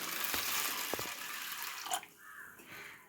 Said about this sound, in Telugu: వేసేసి వాటర్ పోసుకోండి.